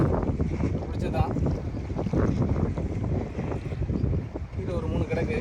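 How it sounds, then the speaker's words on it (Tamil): Steady wind buffets the microphone out at sea off Pamban, aboard a small fishing boat, while someone talks over the constant rushing noise and water washes in the background. "இப்போ லைட்டாக கொஞ்சம் காற்று ஸ்பீட் அடிக்குது."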